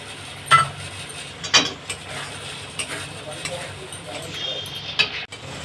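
Homemade paneer cubes are added to a cooked spice mixture and stirred, with soft scraping and clicks of a spoon against the pan over a low sizzle.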